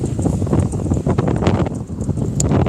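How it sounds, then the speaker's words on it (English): Strong 20 to 30 knot wind blows at a lakeside wildfire, a constant loud buffeting roar that batters the microphone throughout with no pauses. "It's being pushed by 20 or 30 knot wind now."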